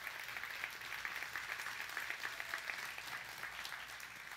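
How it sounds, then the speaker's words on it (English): A church congregation on a Sunday gives a visiting pastor a warm, even round of applause, a continuous wash of many hands clapping at moderate loudness without a break. "Would you give him a hand clap?"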